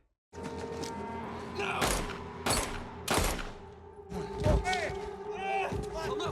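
Bursts of gunfire from the film Patriots Day, several loud sharp volleys spaced a second or so apart over a steady background, with people talking over the action.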